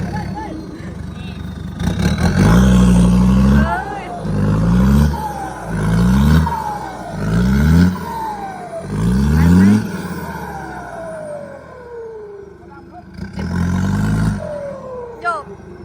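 A turbocharged dump truck with a 240-horsepower J07E engine revs loudly in first gear, with a series of rising and falling bursts and whistling turbo sweeps between them, close by.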